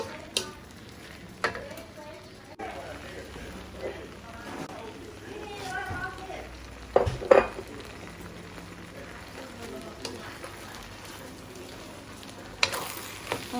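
Chicken pad thai being stir-fried in a pan, with a steady low sizzle and occasional scrapes and clatters of the spatula, fairly quiet throughout.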